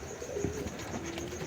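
Domestic pigeons in a mini breeding loft give soft, low coos, one short call followed by a longer drawn-out one, quiet against a faint background hum.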